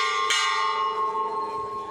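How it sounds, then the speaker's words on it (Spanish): A church bell strikes once and rings out, its clear tone lingering and slowly fading. "El eco de las campanas"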